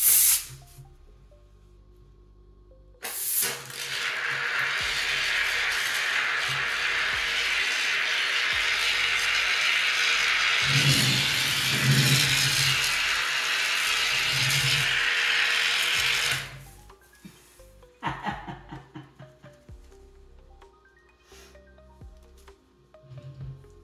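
A huge foam-printing robot runs G-code to lay down a square, giving a loud, steady spray-like hiss that lasts about thirteen seconds, framed before and after by softer mechanical clicks and whirring motion.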